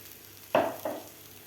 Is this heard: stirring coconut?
yes